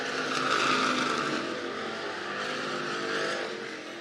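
Hobby stock race cars on the clay dirt track at Clay County Speedway, engines roaring and revving as they pass, loud at first and then holding a sustained, slightly fading drone with no talk.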